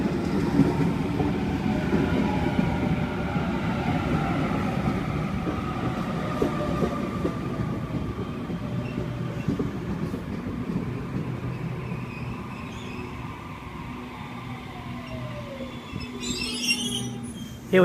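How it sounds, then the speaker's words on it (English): A Sydney Trains Waratah electric set pulls into Waverton station and heads out again, with a steady close rumble, rising motor whine, squealing wheels and rail clatter, and a brief hiss near the end. "Here we have A4, which has just arrived onto platform number 1 and is now departing."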